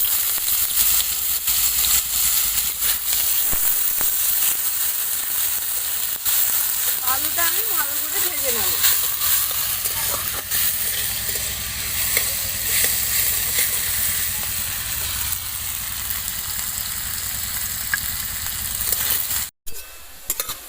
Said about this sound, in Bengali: আলুটা এইদিকে আমার খুব সুন্দর করে ভেজে নেওয়া হয়ে গিয়েছে